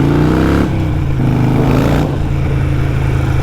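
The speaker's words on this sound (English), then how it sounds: "This is a 2008 Harley Nightster. It's got a very loud exhaust on it." A 2008 Harley-Davidson Nightster fitted with loud Vance and Hines Short Shots exhaust, a close, deep, heavy rumble that lifts briefly into a rev and settles back, with no talk over it.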